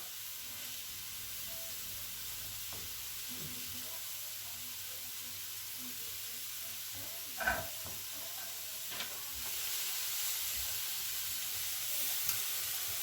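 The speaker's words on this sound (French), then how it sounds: "on va tourner un peu les poireaux" Leeks frying in a pan for a tartiflette tart, a soft steady sizzle with a few scraping stirs of a utensil midway, quiet and close with no talking.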